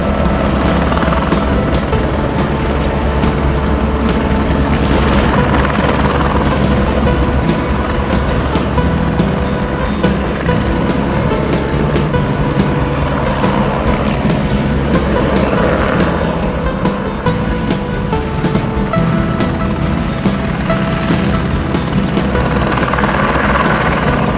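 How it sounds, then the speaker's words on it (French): A helicopter flies back and forth in the distance ferrying materials above Saint-Leu on Réunion, its steady rotor drone continuous and fairly loud throughout, with faint wind and surf-like wash beneath and no voices. "Au loin, un hélicoptère fait des allers-retours pour décharger des matériaux."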